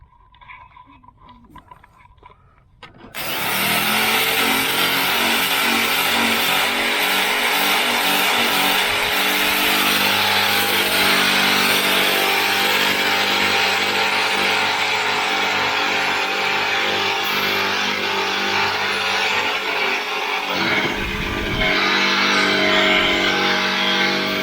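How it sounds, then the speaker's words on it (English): Grinder working Bondo body filler on a 1985 Camaro IROC-Z's bodywork: a loud, steady, continuous grinding whine that starts abruptly after a quiet moment and runs without pause to the end. "I'll show you a little bit of grinding here. I got Bondo here too."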